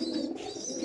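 Pakistani pigeons at a pigeon farm, a low continuous coo heard close and clear for under a second, with no voices.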